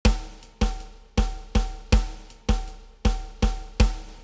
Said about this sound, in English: The 5/4 clave, as you may have already guessed, requires a 5/4 time signature and sounds like this.